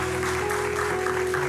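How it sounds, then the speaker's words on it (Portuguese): A church congregation gives a round of applause during a Baptist service, a steady wash of clapping over a sustained keyboard tone. "Você pode dar uma salva de palmas ao Senhor nesse momento?"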